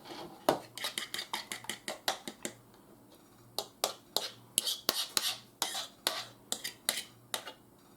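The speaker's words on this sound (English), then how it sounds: "I'm going to use this to stir with because it's metal" A metal spatula stirs cookie dough of sugar, shortening, peanut butter and egg in a bowl, giving quick rhythmic scraping clinks against the sides, close and fairly soft, in repeated bursts with short pauses.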